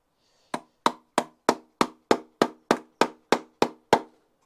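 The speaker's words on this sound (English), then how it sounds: "hammer it down." A hammer strikes a wooden Japanese pile box beehive twelve times in a steady, even rhythm, each blow a sharp, close, woody knock that quickly decays, with no talking.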